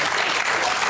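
Theatre audience applauding at the close of a French stage show, dense and steady clapping filling the whole short moment at close range.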